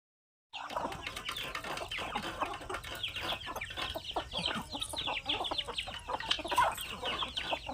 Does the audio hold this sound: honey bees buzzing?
no